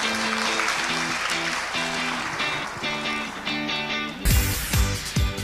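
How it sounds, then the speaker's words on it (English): An audience claps before a plenary lecture at an academic event, with steady applause mixed with background music and a few louder thumps near the end. "Please, a lot of applause."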